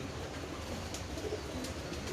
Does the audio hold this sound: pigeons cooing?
yes